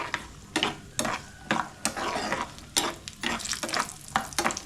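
Almonds sizzle and fry in a pan while being stirred alongside raisins for semiya payasam, with repeated scraping strokes over a steady crackle, close and moderately loud.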